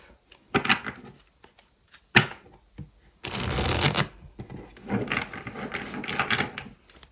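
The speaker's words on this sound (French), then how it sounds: "on va aller voir un petit peu avec quelques cartes du tarot" Tarot cards shuffle in several quick riffling bursts, close and crisp, with short pauses and soft handling taps between them and a longer continuous shuffle in the middle.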